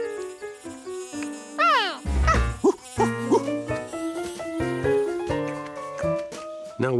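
A cartoon bee buzzing around in a Curious George episode, with a thin whiny drone weaving among playful, swooping music cues.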